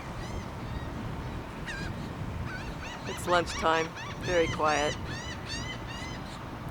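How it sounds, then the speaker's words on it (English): Gulls call in short bursts around a quiet entrance at lunchtime, several squawks clustering in the middle over a faint background hush, with a person speaking briefly. "Seagulls always show up at lunchtime."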